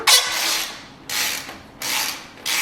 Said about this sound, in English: I was just straight up with a 1/2 inch ratchet.